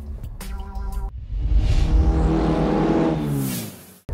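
Cabin road noise inside a Suzuki Ignis Hybrid while driving, a low steady rumble of tyres and engine that swells as the car speeds up, with a brief harmonic whine near the start and no talk.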